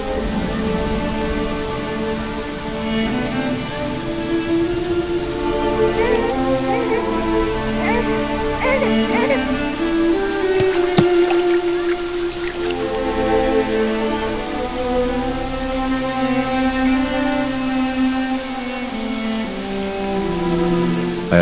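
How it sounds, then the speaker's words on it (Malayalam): A heavy evening downpour in a film scene keeps up a steady dense patter of rain throughout, with sustained music tones layered underneath. "മഴയും ഇടിയും മിന്നലും നിറഞ്ഞൊരു വൈകുന്നേരം"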